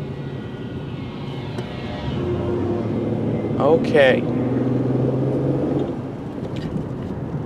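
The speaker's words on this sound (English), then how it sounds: "Why is there so much traffic out here?" Steady low rumble of highway traffic flows past throughout, with a louder vehicle swelling by near the middle; a person speaks briefly over it.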